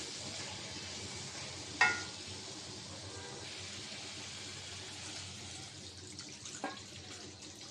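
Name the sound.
broth poured into spiced potatoes in pan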